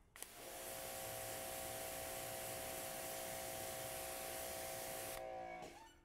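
A steady water spray rinses a waxed test panel, a broad hiss holding at even loudness for about five seconds before cutting off abruptly, with a faint tonal whine running underneath.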